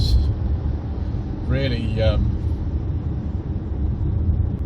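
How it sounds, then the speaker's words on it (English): A low, steady rumble from the cold engine of a 2021 MG HS plug-in hybrid runs throughout, with someone speaking briefly over it. "When the engine's cold, you can actually hear it"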